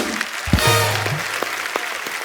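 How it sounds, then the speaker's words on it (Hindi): Studio audience applause on an Indian TV comedy talk show, a dense wash of clapping that swells quickly and holds steady through the short span, with faint voices mixed underneath. "प्रियंका के लिए जोरदार तालियां।"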